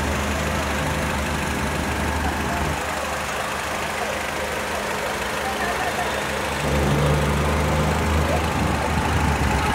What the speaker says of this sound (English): with the AC on, have a reasonably smooth engine running